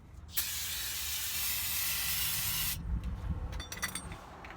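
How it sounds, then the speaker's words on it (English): An aerosol can of brake cleaner sprays onto the cable of a GMT800 truck's spare tire hoist in one continuous loud hiss for over two seconds, followed by faint dripping and rattling. "spray some brake cleaner up in there"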